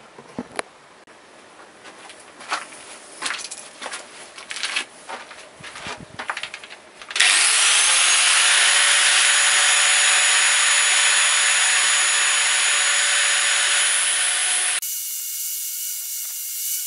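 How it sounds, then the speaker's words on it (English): An angle grinder sharpens a point on the end of a metal chain link, starting with scattered scraping and rubbing, then a loud, steady high-pitched grinding whine that runs for several seconds before shifting to a slightly different pitch. "I've simply put a sharp point and using the grinder"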